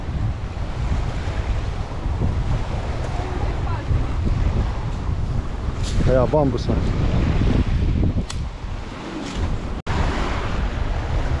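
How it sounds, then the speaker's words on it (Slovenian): Strong wind blowing at the seashore, a constant roaring rush buffeting the microphone alongside surf, with a few short spoken words midway and occasional knocks. "Danes pa že cel dan tle piha."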